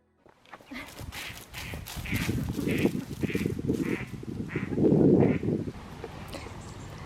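A duckling quacks in a steady series of short calls, roughly evenly spaced, with rustling and handling noises underneath.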